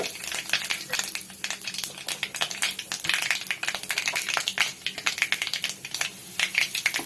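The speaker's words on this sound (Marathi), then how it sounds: "मोहरी टाकते चिमूटभर हिंग" Mustard seeds and a pinch of asafoetida crackle and sizzle in hot oil while a Maharashtrian tomato saar is made, a steady close-up stream of dense, sharp popping and spitting without talk.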